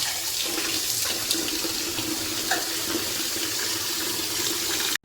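Cold tap water runs steadily over cooked spinach in a sink, a continuous close rushing stream that cuts off abruptly at the end.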